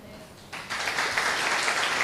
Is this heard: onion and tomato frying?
no